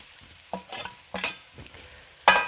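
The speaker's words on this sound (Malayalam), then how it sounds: "ദാ നമ്മുടെ ഈ വറുത്ത് വെച്ചിരിക്കുന്ന ചിക്കനും കൂടെ ഒന്ന് തട്ടുക" Fried chicken pieces are stirred into a sizzling curry masala in a pan, with several sharp scraping spoon strokes over a low, crackling fry and no voices.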